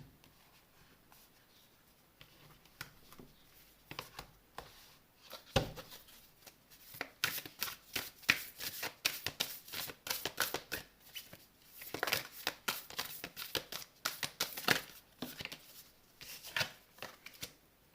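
Mantra oracle cards being shuffled and drawn by hand, soft riffling and sliding card noises in close irregular bursts that grow busier after a quiet start.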